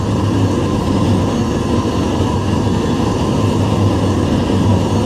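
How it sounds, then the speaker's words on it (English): Continuous low rumble of a train under player control in the Roblox railway game Trainware, an even mechanical drone with faint higher hum, steady and close, no voices. "you can literally just operate a train"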